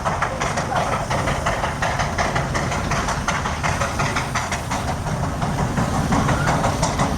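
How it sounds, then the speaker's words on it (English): A steam traction engine working under heavy load at a steam show sends out a fast, dense chuffing exhaust beat over a deep mechanical roar, loud and continuous like a railway locomotive, with voices faintly in the mix. "it sounds more like a railway locomotive under heavy load than it does a traction engine"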